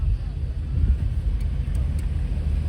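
A Jensen Interceptor Mark III passes at the Abingdon airshow with a low engine rumble, loud and close but brief, beneath a commentator's voice.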